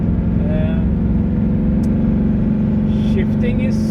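Engine of a 1964 Porsche 356 droning steadily while driving at around 4,000 RPM, a constant mid-pitched hum running the whole time with someone talking over it.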